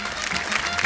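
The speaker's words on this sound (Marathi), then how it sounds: "तेव्हा एकदा जोरदार टाळ्या होऊन जाऊ दे" A brief, dense burst of audience clapping rings out at a televised women's game show, loud and crowded with no voices on top.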